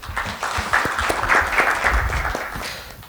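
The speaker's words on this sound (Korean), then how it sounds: "박수로 환영해 주십시오." Audience applause at a Korean intellectual property expert forum welcomes a speaker to the stage: steady, dense clapping from a seated crowd lasting about three seconds, fairly loud and close.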